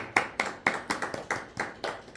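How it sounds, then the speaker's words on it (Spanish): A congregation clapping hands together during a worship service, about ten sharp, evenly spaced claps in a steady rhythm, fairly close and distinct, with no voices over them. "Bate tus palmas, hermano y"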